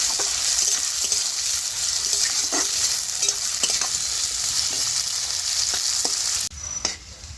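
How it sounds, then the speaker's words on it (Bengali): Chopped onion fries in a wok over whole spices (dried chilli, bay leaf, whole garam masala, black pepper and cumin), giving a loud, steady, close sizzle with scattered stirring clicks before the sound drops abruptly near the end. "পেঁয়াজটাকে একটু লাল লাল করে ভেজে নেবো"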